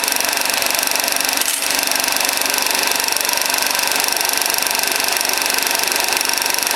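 A Super Duper Film Looper runs with its rollers turning on stationary shafts, giving a loud, steady mechanical whir and rapid clatter that continues evenly throughout with one brief knock.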